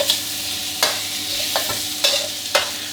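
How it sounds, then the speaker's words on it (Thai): Garlic and pork belly stir-fry in a pan with a continuous sizzle broken by about five sharp scraping strokes of a spatula, close and loud, with no talking. "ใส่กระเทียมลงไปผัดต่อให้หอมเลยครับ"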